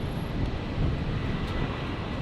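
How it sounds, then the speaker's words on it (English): A Boeing 767 airliner approaches Brisbane airport, heard as a steady, moderately distant broadband jet roar with a little wind noise and no talk. "So 767 will be coming in just before."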